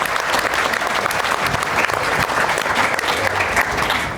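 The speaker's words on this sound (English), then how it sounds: "can we just have a round of applause for all of our clinical staff?" A room full of people at an NHS panel discussion claps steadily and loudly for clinical staff, a dense, even round of applause lasting several seconds.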